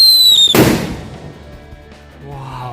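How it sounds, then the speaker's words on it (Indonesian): A Pear Thunder firecracker goes off at night during Ramadan, one sharp, very loud bang after a lead-in crackle, followed by a fading rumble and faint background noise. "yang selanjutnya kita nyalain mercon Pear Thunder"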